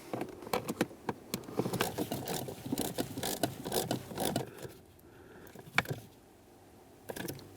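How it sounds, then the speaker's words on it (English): Ratcheting on a mounting bolt for the HVAC blend door actuator of a 2007-2013 Acura MDX, a close run of quick clicking pawl strokes that pauses, then a few more clicks. "Time for our last mounting bolt on the top corner there."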